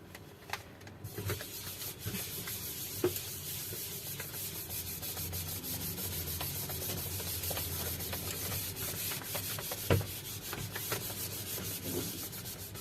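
A board being wiped clean of writing gives a steady, close scratchy rubbing with small knocks and scuffs scattered through, continuing without talk.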